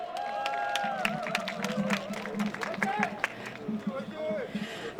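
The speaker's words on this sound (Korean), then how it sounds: "박수로 맞아주십시오." A crowd at an outdoor political rally in Cheonggye Plaza claps and murmurs, with scattered sharp claps and crowd noise running beneath a speaking voice.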